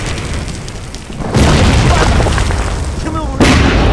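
Artillery shells exploding in a wartime film battle scene, with two heavy booming blasts about two seconds apart, each followed by sustained loud rumbling roar.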